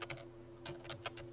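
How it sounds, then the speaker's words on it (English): Computer keyboard keys pressed during spreadsheet data entry, several quick separate clicks with pauses between them, close and quiet against a faint steady hum. "And I press the tab key to get there."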